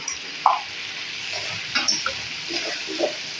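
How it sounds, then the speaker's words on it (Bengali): Mustard being stirred in a pan for Bengali mustard mango pickle, with a low sizzle and a few separate scraping strokes of a spoon against the pan, close and moderately loud. "সর্ষেটা দিয়েও কিন্তু আমি একটু নেড়ে চেড়ে নেব"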